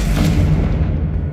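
A Confringo blast spell in Hogwarts Legacy goes off as a loud, deep, rumbling boom that fills the whole moment and then fades, with no voices over it.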